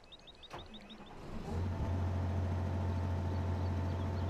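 The engine of a small, nimble JCB construction vehicle in a PS4 game, starting up after a few chirps and then settling into a loud, steady low idle drone that runs on without voices.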